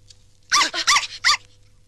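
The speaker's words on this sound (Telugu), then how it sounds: "కుక్క పిల్ల." A puppy inside a delivered parcel gives four quick, high-pitched yelps in about a second, close and fairly loud, with quiet before and after and no talk.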